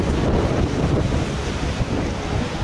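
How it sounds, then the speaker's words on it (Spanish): Huge storm waves crash against seafront buildings in Luanco during a severe coastal gale, a loud continuous roar of surf with heavy wind buffeting and no voices. "podemos ver unas enormes olas que golpearon contra los edificios de la ribera"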